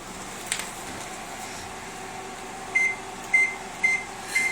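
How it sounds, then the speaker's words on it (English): A microwave oven runs with a steady low hum and fan whir, joined near the end by four short evenly spaced beeps; it runs alone with no talk. "Because of the microwave. And it's still running."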